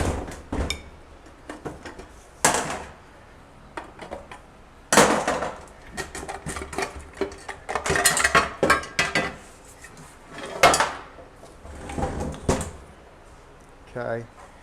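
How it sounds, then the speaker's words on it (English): Metal tools strike the case of a Chevy 243C transfer case from a 98 Chevy 1500 5.7L to pry it apart, with sharp, close clanks and taps coming in irregular clusters and someone speaking between the hits. "You always want to come in at a sideways and kind of hit it like this to pry it open"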